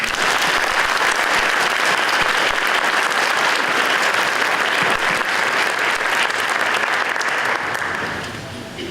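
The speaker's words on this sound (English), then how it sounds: "please join me in a round of applause for Mr. Dale Dahl and the LHS Jazz Ensemble for their fine performance this evening" An audience at a high school scholarship night gives the school jazz ensemble a long, dense burst of applause that holds loud and even before tapering off at the end.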